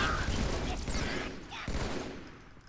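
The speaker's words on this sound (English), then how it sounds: "use the battle rifle to take them out" Bursts from a battle rifle fired at grunts in Halo 2 crackle close and loud, followed by a fading rumble of battle noise.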